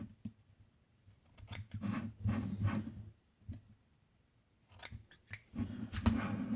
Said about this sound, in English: Let me get some scissors and give it a trim.